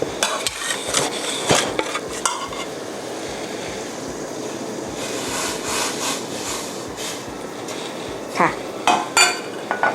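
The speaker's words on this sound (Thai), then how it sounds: "แล้วเราก็จะใส่เนื้อลงไปนะคะ" Beef being added to a pot of ginger for Hong Kong-style braised beef, then stirred: scraping and clinking of a utensil against metal with wet shuffling, fairly close and steady, sharper clanks near the start and end.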